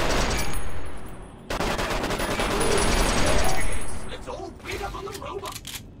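Sustained bursts of armor-piercing gunfire in Fallout New Vegas, loud and dense rattling volleys that break off briefly and resume, thinning into scattered shots and clinks near the end.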